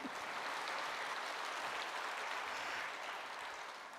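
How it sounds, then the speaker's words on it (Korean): A church congregation at a Sunday evening service applauds in a soft, even wash of clapping that stays level from start to finish, heard at a distance. "박수 한번 주세요"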